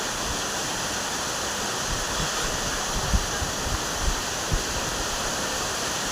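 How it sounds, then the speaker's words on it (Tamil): Steady, dense rush of a waterfall near Manali, continuous falling water with a few small splash accents, close and fairly loud, no voices. "தண்ணி சூப்பராக அருமையாக வந்து கொட்டுது அது அருவி ஒரு ஃபால்ஸ்"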